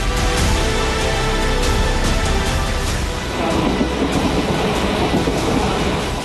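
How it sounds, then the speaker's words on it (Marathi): A Mumbai local train departing Kalyan toward CSMT rumbles and clatters continuously, with rhythmic wheel clicks and a constant close, loud rolling roar. "कल्याणवरून सीएसएमटीकडे पहिली रेल्वे रवाना झाली"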